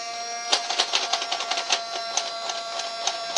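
A Nerf Modulus toy blaster motor whirring at a steady high pitch, with a rapid run of light mechanical clicks and ticks over it.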